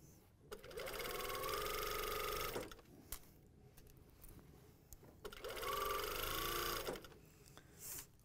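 A sewing machine stitches stretch leggings fabric held taut in two steady bursts, each a close, even whir lasting a couple of seconds, with a quiet pause between them.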